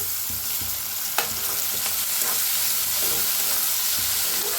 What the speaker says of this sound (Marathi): आता कांदा हलकासा भाजलेला आहे त्याच्यातच टाकूया टमाटर